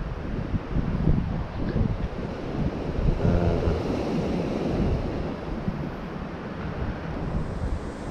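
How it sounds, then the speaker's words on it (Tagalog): Strong wind buffets the microphone over ocean surf on a shoreline at night, a dense, continuous roar with rushing waves and gusty rumble, loud and unbroken with no voices. "malakas yung hangin, tsaka malakas yung riptide, tsaka medyo malabo yung tubig"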